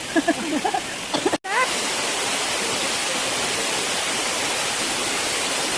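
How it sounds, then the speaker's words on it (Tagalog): Balite Falls in Amadeo, a waterfall roaring as a loud, steady rush of water. Voices talk briefly at the start before a short break, then the falls continue alone. "Welcome sa Balite Falls."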